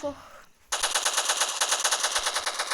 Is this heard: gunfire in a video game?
yes